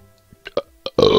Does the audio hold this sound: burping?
yes